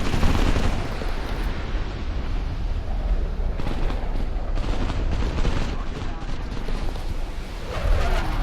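Aircraft cannon fire in War Thunder, strafing tanks: a dense, continuous roar of rapid gunfire and booming impacts rumbles throughout, loud and unbroken, with a voice talking over the battle.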